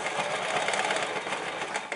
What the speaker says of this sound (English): So now you want to just sew this straight across. And I'm just sewing a 5/8 inch seam allowance.